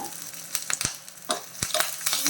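Chopped onion and curry leaves sizzle and crackle in hot oil in a pan, with steady frying hiss and a few sharp pops and stirring knocks.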